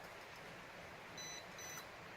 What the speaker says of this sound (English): once you hear a beep, the next rotation is going to be like this